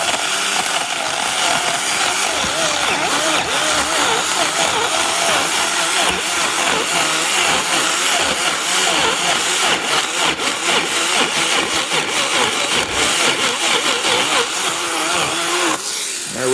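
A Ryobi pruning saw cuts into a tree stump during outdoor land clearing, a loud, continuous motor whine with a rough cutting rasp that carries on without letup.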